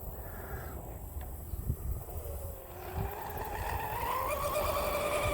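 A Proboat Veles 29 RC boat with an upgraded ESC and a 4074 2000kV motor runs at full throttle. Its rising electric whine climbs steadily in pitch over constant wind and water noise, and it gets louder toward the end.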